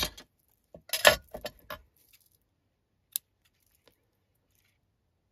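Scissors cutting ribbon at an angle for a mini album craft: a few sharp metallic snips and clinks clustered near the start, then mostly silence with one more isolated click.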